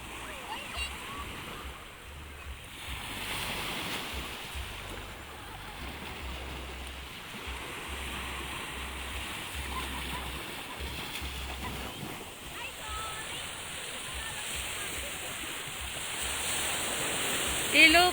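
Sea waves wash steadily along Dili beach in Barangay Dili, Santa Cruz, Ilocos Sur, a continuous broadband surf roar with low wind rumble, slightly swelling near the end.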